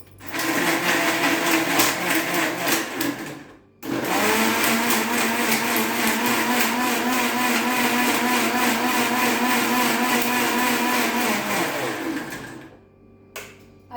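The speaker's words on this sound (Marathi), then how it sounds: "हे सर्व मिश्रण एकत्र मिक्सरमध्ये वाटून घेऊया" A kitchen mixer grinder blends tamarind with cumin into a sweet-sour drink base: a loud, continuous motor whine, cut off briefly once and restarted, then running steadily before winding down near the end.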